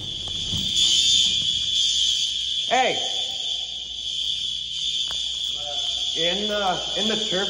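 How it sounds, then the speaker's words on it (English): A school fire alarm horn strobe blares as a continuous high-pitched tone instead of its temporal pattern, without pauses, while a person talks over it at moderate distance. "one of those horn strobes somehow is doing continuous. It's not doing temporal anymore."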